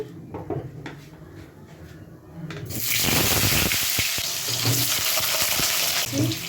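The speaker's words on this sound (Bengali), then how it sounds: "এবার আমি আলুটা অল্প অল্প করে তেলে ছেড়ে দেবো। তেলটা গরম হয়ে গেছে।" Potatoes are dropped into hot oil in a pan. A quiet clatter gives way to a sudden loud, continuous sizzle and crackle, with occasional scrapes of a utensil.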